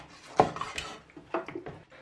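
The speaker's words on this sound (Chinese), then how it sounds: "我们把它剁成一半" A cleaver chops a bighead carp in half on a board, a sharp heavy thunk followed by a few lighter knocks and clatters of blade and dish, close and fairly quiet with no talking.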